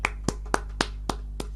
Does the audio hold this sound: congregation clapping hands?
yes